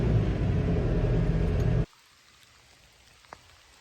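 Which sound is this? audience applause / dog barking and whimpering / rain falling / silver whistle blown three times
rain falling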